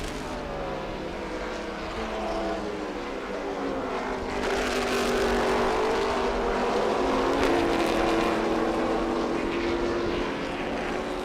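Trans Am Series TA/GT race car at Watkins Glen accelerating hard through a turn, a sustained loud engine note climbing in pitch over about eleven seconds, swelling in volume partway through, with no talking.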